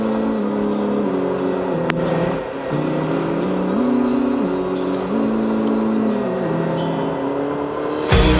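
A 4x4 drives along a beach near Rame Head, its engine droning steadily with shifting pitch as it moves, loud and continuous throughout with no talk.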